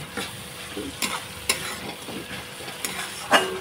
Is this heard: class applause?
no